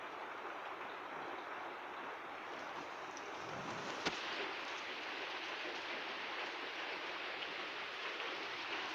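Steady rain falls outdoors, a constant soft broadband hiss with no pauses and one brief sharp tick midway, fairly distant and even throughout.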